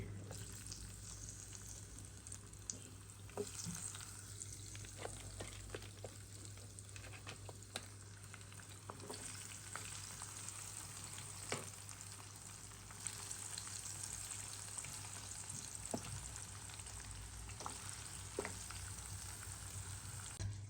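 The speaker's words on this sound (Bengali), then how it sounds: "সেকেন্ডবার এটা ভাজবো এটা দিয়ে দিলাম তেলে" Crabs fry a second time in hot oil, giving a steady close sizzle with crackling pops and bubbling throughout, no voices.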